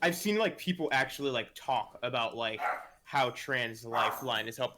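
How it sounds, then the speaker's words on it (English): A pet dog barks and yips in short bursts at a home livestream, mixed in beneath a person's steady talking close to the microphone. "Sorry, that's my dog."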